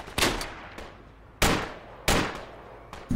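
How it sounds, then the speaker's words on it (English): Gunshots in the tactical shooter game Project Reality: four sharp, loud reports spaced irregularly, each with a decaying echo tail, with no talking over them. "Someone's shooting at me."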